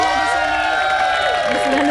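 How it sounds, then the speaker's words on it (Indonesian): A TV quiz show studio audience applauds and cheers loudly, a sustained wash of clapping and shouts with music playing underneath and no clear speech. "saya minta tepuk tangan yang meriah untuk kita semua di sini"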